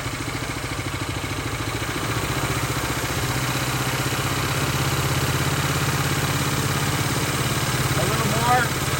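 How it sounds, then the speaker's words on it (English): Jet engine being throttled up during an engine comparison, a continuous droning roar with a steady tonal hum that swells slightly in level and holds, close and loud, with faint talk over it. "go ahead and turn the engine up a little bit."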